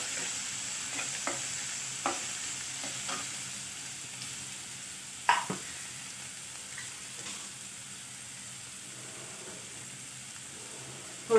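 Onions sautéing in a pan for sevai upma: a constant soft sizzle and hiss, with occasional light clicks and scrapes of a spatula stirring them.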